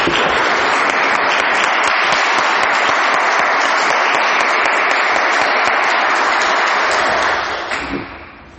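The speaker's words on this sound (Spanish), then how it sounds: "Regalémosle un aplauso." A large church congregation applauds loudly and steadily, a dense wash of clapping that holds for several seconds before fading out at the end.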